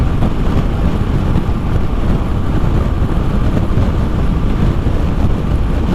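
Harley-Davidson Breakout 117 engine cruising on the highway at about 2000 RPM, a steady low rumbling drone with constant road and wind roar, even and unbroken throughout.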